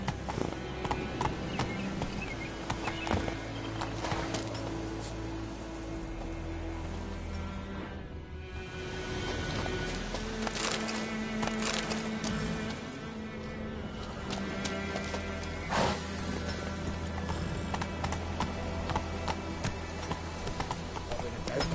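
Roach, a horse in The Witcher III, gallops with steady, rapid hoofbeats that carry loud and close through the whole stretch, under game music and brief speech.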